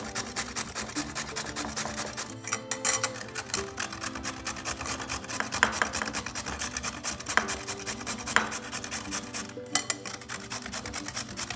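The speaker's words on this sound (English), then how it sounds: "We're gonna grate our little carrot here." A carrot is grated by hand, a close, steady rasping scrape with rhythmic strokes repeating throughout, occasional brief pauses between passes.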